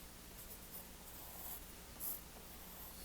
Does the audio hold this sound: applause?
no